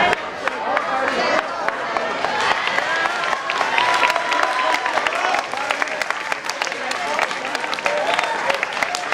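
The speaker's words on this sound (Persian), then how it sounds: "خواهش میکنم تشویقش میکنید." An audience at a Yalda Night competition claps and cheers for a winner, a dense crowd applause that runs throughout with a voice speaking over it.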